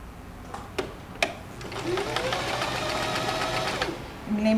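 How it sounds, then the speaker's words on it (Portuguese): A sewing machine stitching patchwork strips for a quilt block, with a few sharp clicks, then a steady close whirring run of stitches that rises and settles, and a voice in the background. "Eu já vou costurar aqui agora as penúltimas barrinhas."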